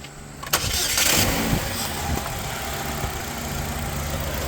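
A 2005 Chevy Cobalt engine after a fan replacement cranks briefly and catches, surging to a short high rev before settling into a steady, smooth idle, heard up close with no talking.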